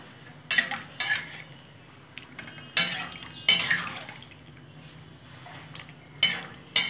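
A utensil scrapes and knocks against a cooking pan as mango pieces are stirred, giving irregular clattering strokes with soft wet shuffling between them.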